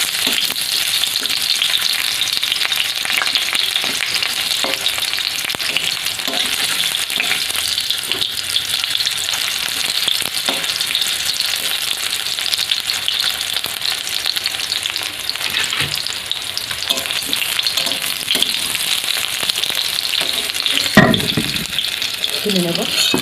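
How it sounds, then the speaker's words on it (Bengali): Cut mango pieces fry lightly in hot oil with a dense, continuous crackling sizzle close by, broken by occasional stirring clinks and a brief scrape near the end. "তো ওই তেলের মধ্যে আমি কেটে রাখা আমটা ভেজে নেব, হালকা ভেজে নেব আমটাকে।"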